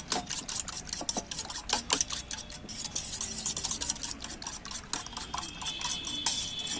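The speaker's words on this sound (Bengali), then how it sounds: "কাঁটা চামচ দিয়ে আমি একটু চামচ দিয়ে ঘেঁটে নিচ্ছি।" Eggs being beaten with a fork, seasoned with salt, a quick steady clicking and tapping against the bowl, close and fairly soft, continuing without pause.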